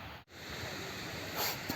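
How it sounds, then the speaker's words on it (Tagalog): A mountain stream at the Aberdeen reservoirs in Hong Kong rushes along toward a waterfall, giving a steady, close, broadband roar of flowing water with a brief dropout near the start. "Naririnig ko na yung ingay ng tubig."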